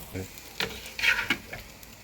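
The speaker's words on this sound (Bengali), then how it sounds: "ঢাইকা পরোটা ভাজলে ফ্লাফি হয়" Paratha frying in a covered pan, soft close sizzling with a few louder crackles and spatters over about two seconds, with someone talking over it.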